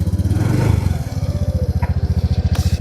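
A motorcycle engine cranks with a rough, loud rumble, then catches and settles into a steady, rapid thumping idle close by.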